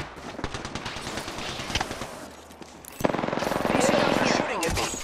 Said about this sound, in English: These guys are shooting at me.